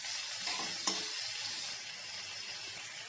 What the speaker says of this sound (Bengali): পেঁয়াজটাকে দিয়ে আবারও প্রায় মিনিট খানেক নাড়াচাড়া করে ভেজে নেব।